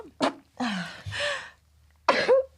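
A single sharp sneeze bursts out close by, followed by a short pause and another throaty exhale; brief vocal sounds around it.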